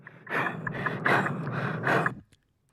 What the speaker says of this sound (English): I just want you guys to hear just pay attention to the breathing for a minute